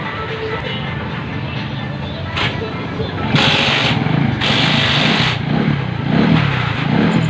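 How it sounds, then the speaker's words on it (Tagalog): A motorcycle engine starts up after an oil change and settles into idle, a rough rumbling run with a few revs rising over the steady engine noise, close by in a repair shop. "umanda na yung motor"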